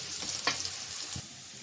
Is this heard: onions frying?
yes